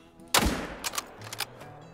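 Rifle shot at a deer in theHunter: Call of the Wild, one sharp loud crack followed by a fading rumbling echo and a few fainter thumps, with no talk.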